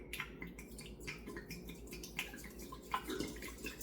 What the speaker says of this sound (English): I'm going to pour